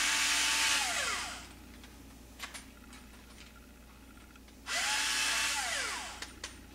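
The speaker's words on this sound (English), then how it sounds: "Chamfer the inside. Chamfer the outside." A cut 300 AAC Blackout rifle case gets chamfered inside and then outside with a power tool, heard as two loud whirring bursts separated by a quieter pause with a few small clicks.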